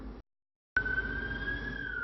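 A siren wails steadily with a sustained tone, following a brief sound and a short silence; fairly clear against background noise.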